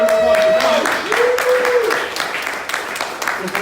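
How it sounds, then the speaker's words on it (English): Audience applause at a 1 Million Cups community gathering in Orlando, Florida, a steady broadband clatter of many hands with a couple of rising whoops or whistles near the start, fading slightly toward the end. "Big round of applause"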